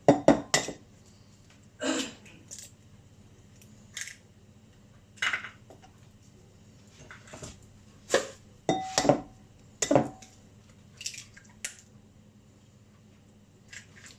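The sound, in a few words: cracking two eggs into a bowl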